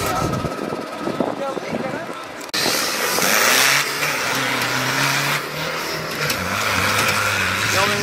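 A trial motorcycle engine revs in the distance at a rocky trial competition section in Ponte da Barca, rising and holding in steady surges beneath nearby talk and outdoor noise.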